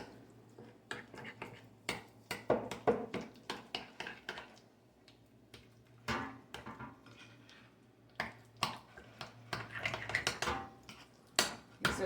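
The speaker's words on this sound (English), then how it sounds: "and a little bit of pepper in there with it. Then I'm going to mix that up." Eggs and pepper being mixed in a bowl for homemade lasagna, irregular bursts of a utensil clinking and scraping against the bowl, close and fairly quiet, with pauses between strokes and no talking.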